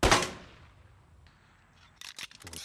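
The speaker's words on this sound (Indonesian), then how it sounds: "Jim mulai berlatih menembak dan juga mengajarkan Miguel bagaimana menggunakan sebuah pistol." A pistol is fired during shooting practice in a film: one sharp, loud shot with a fading echo, followed by a few quick, fainter clicks and cracks.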